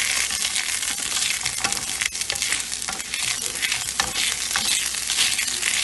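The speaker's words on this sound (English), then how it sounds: "just mix it up until it's all mixed in with the onion" Ginger paste being stirred into onions frying in a pan for chicken curry, a steady close sizzle with scraping and stirring strokes throughout, no voices.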